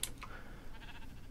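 A Minecraft sheep gives a single short, faint bleat alone, with no talking over it.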